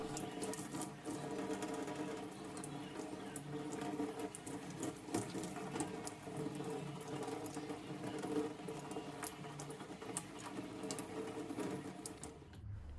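Steady scrubbing and rubbing of a plastic washing machine filter under running water, a continuous wet hiss with small rapid scratches, close and fairly loud, ending abruptly.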